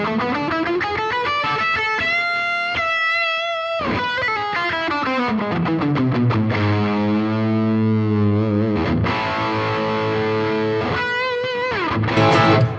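A fake Gibson Les Paul electric guitar is played through heavy distortion, with sustained chords and bending, sliding notes ringing loudly and continuously with no talking.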